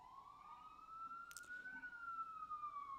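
An emergency vehicle siren passing outside, one long rising and falling wail, faint and distant, with no talking.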